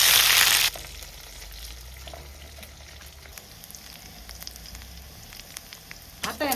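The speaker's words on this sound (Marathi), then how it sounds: "ते आता त्याला तळून घेऊ" Cleaned Bombay duck fish fry crisp in hot oil on a village stove, a steady close sizzle with crackling pops, opening with a loud hissing burst and flaring again at the end.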